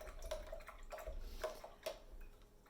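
Paintbrush swished and tapped in a water cup while painting with acrylics, giving faint close clinks and light watery dabs at a loose rhythm over a low background hiss.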